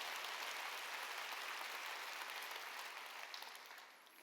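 Sustained applause from a church congregation at a Wednesday worship service, a dense wash of many clapping hands heard from a distance, steady then fading toward the end.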